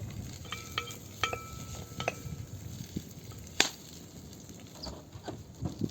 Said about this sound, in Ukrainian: О, вони вже шкваряться, видите?